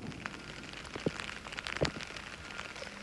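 Heavy rain falling in Rio Grande do Sul, a steady dense hiss of drops with occasional louder splats and knocks, continuous throughout at moderate level.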